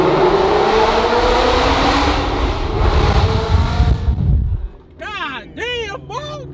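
A car engine revs hard inside a tunnel, a loud, sustained roar lasting about four seconds that cuts off abruptly, followed by excited whooping and cheering voices.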